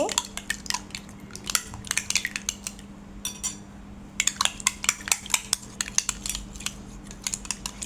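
A spoon or fork clinks rapidly against a bowl while egg is beaten with salt and chili powder, a steady run of sharp taps with a brief pause midway, close and fairly quiet.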